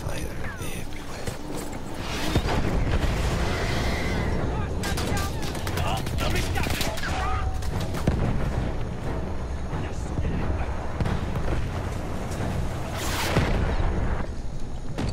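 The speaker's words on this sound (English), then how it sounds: "Did I just get killed by artillery?" Artillery fire and explosions in the Battlefield 1 video game, a dense, continuous roar of blasts and gunfire with repeated loud bursts across the whole stretch, under occasional shouting voices.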